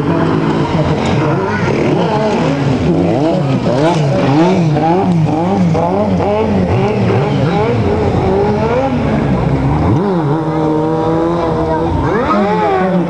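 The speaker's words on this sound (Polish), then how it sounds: "będą tutaj kręcić tymi motocyklami, palić gumę" Stunt motorcycles rev hard and wail at high pitch while burning rubber at a stunt show, rising and falling continuously with screeching tire noise, loud and close throughout.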